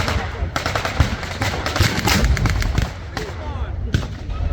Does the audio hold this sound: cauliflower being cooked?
no